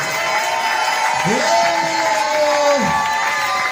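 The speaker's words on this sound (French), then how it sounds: "Par les cris d'acclamation" A church congregation raises a steady roar of cheering and acclamation, with a couple of voices rising and falling in long whooping shouts above the crowd noise.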